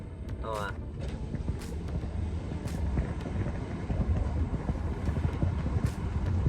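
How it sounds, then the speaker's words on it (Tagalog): Strong wind blows outdoors in Australia, a loud continuous low rumble buffeting the microphone throughout, with speech-like sounds and faint higher noises over it. "Sobrang lakas ng hangin guys."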